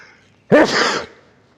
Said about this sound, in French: Je vais d'éternuer, vous me permettez?